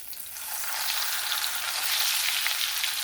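Thick pork chops fry in a pan, producing a continuous, even, close sizzle that holds steady and swells slightly toward the end.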